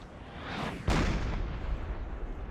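Heavy artillery fire in a Napoleonic-era battle in the game Napoleon: Total War, with a rumbling barrage building into a loud, sustained boom near the one-second mark and continuing as dense, overlapping cannon thunder.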